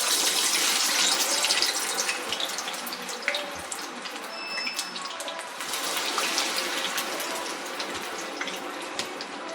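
Plantain pieces fry in hot coconut oil, making a continuous close-up sizzle and crackle that stays steady throughout.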